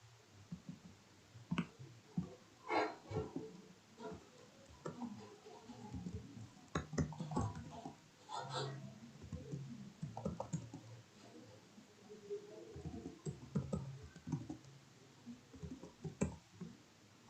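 Soft, fairly quiet keystrokes on a computer keyboard entering an account number, irregular clusters of clicking taps with short pauses between.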